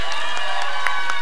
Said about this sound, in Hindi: हमारे ट्राइब के लिए जोरदार तालियां हो जाए